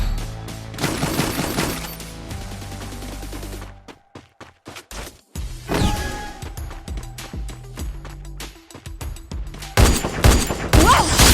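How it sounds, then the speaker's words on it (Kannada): SVD sniper rifle fired in the Free Fire video game, loud close bursts of gunfire with sharp cracks and rattling volleys, separated by short gaps, alongside game effects and music. "ಇವಾಗ ತಗೊತಾ ಇದ್ದೀನಿ SVD ಗನ್."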